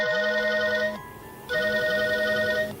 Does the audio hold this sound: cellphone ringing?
yes